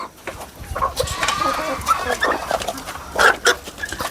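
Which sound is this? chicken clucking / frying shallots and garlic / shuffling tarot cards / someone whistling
chicken clucking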